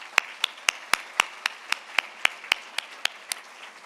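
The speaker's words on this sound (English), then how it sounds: "One more round of applause for them" Sparse, evenly spaced claps roughly every quarter second from a small gala audience, crisp and fairly close, with no talk over them.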